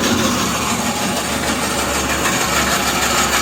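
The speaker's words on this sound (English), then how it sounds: "In-feed auger fires right up." A DMC 548 rotary grain cleaner's in-feed auger runs on an industrial setup, a steady mechanical drone and rumble with no clear start-up, holding even and fairly loud throughout.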